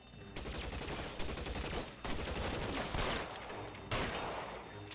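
Dense, continuous gunfire from a shootout in the LA Noire video game, with rapid overlapping shots and a few louder bursts over five seconds, loud and close.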